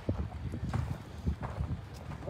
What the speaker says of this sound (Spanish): Un caballo, mira.